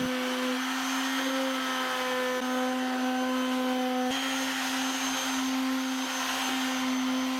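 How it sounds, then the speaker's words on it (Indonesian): A continuous motorized whine with a steady hum runs the whole time, a power sander smoothing wood with 360 to 400 grit sandpaper without pause, close and even in loudness. "saya amplas sebentar"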